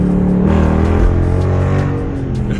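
A 2021 Dodge Charger R/T engine revs steadily after a downshift to second gear, with a rough, throbbing tone, then eases off slightly toward the end, heard from inside the car.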